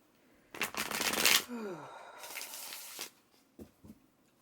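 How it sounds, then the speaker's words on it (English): A deck of tarot cards is riffled and shuffled up close: a loud, dense flurry of card flutter followed by softer slides and a couple of light taps as cards are pulled. "So let's pull some additional cards for you guys, Libra. 3 more cards."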